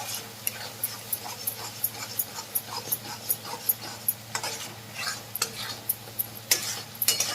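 A spoon stirs ground masala into mutton curry in a pot, making rhythmic scraping strokes over a low continuous sizzle, fairly close and loud.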